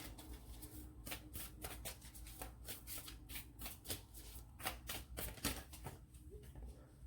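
Tarot cards shuffled by hand, a close, continuous run of quick papery riffles and flicks that keeps going at an even pace, quiet and without any talking.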